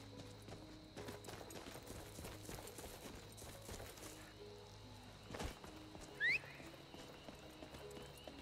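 Horse hooves clip-clop at a steady walking rhythm in the Skyrim video game, moderately near among ambient game sounds, with a brief whinny-like burst near the end.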